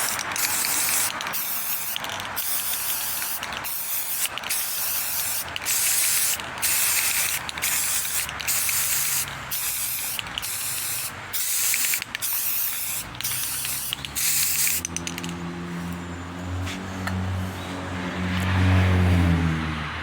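A spray can hisses in repeated short bursts as white paint goes onto a Jason Voorhees hockey mask, the loud blasts broken by brief pauses, then giving way to a steadier mechanical rumble near the end.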